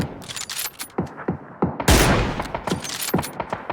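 Rapid bursts of video game gunfire crackle in quick succession, with one louder, sustained blast near the middle before the sharp shots resume, all close and without talk.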